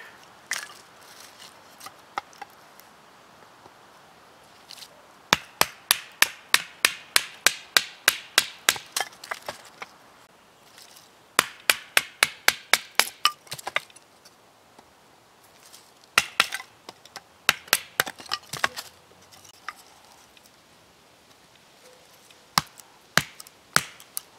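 A knife batoning and chopping through poplar wood that crumbles as it splits, outdoors while preparing a one-stick fire: bursts of sharp, close, rapid cracks and taps in three rhythmic runs, separated by quieter scraping and handling, with no talking.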